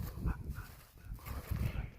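A dog, a female, whimpering and crying in a workshop where a 1969 Mustang Fastback is being welded, with low muffled whines in short bursts close by.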